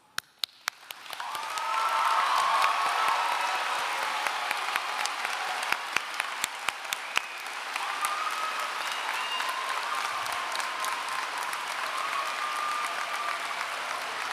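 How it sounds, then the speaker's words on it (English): A graduation ceremony audience at a high school breaks into applause after a few scattered early claps, then keeps up a broad, steady wash of clapping with a slight dip midway, heard from a distance in a large hall. "We invite all graduates who have committed to any branch of the military to please stand for a round of applause."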